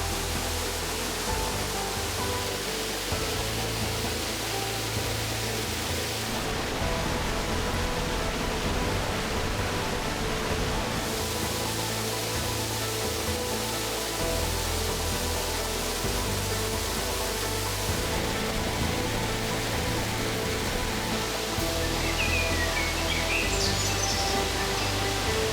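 A Swiss mountain waterfall on the Säntis hike near Unterwasser roars in a steady, dense wash of white noise, loud and unbroken throughout with no voices.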